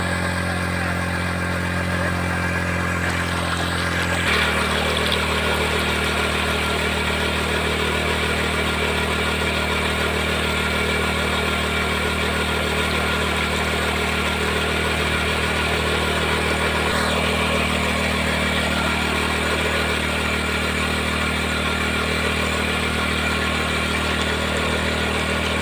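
A motorcycle engine driving a water pump idles steadily and loudly, running up to a higher pitch after about four seconds and holding there in an even drone with no talking.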